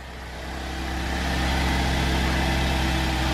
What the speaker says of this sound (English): we'll go ahead and turn the car on.